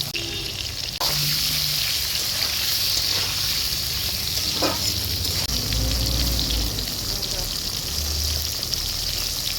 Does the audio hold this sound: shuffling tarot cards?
no